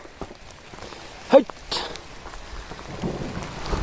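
Rain with thunder around a livestock shed in Barpak: a soft wash of rainfall carries a sudden short rumbling crack early on, then the patter continues at moderate volume.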